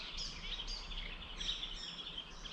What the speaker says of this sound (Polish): posłuchać tych pięknych ptaków.